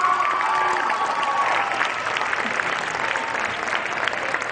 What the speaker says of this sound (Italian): fatemi un applauso a tutti!